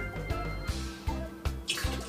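Water drops falling one by one into an aquarium, a steady run of about five close, distinct drips against a constant background hum.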